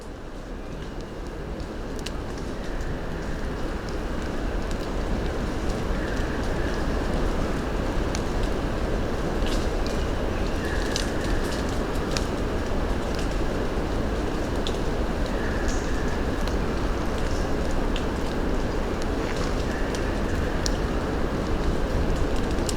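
Wind and rain sweep through thick bush in fog, a steady loud roaring wash of gusts and rainfall with scattered faint ticks and knocks throughout, no voices.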